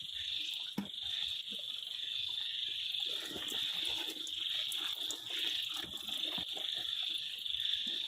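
Frogs croak steadily in a frog-farming pond, a dense continuous chorus heard close up with faint water sounds and no speech.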